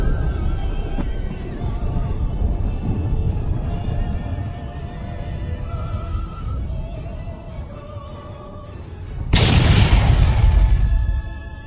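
A big golden explosion in an anime fight scene, Goku's power surging: a loud broadband boom bursts in near the end, over a continuous rumbling score of music and effects.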